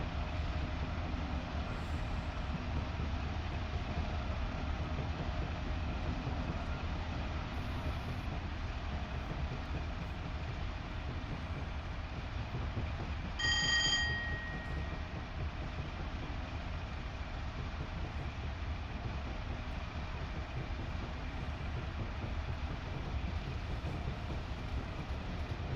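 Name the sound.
train idling in siding, video game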